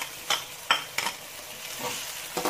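Garlic, ginger and green chilies sauté for egg curry with a soft background sizzle, broken by several sharp stirring scrapes of a spoon against the pan.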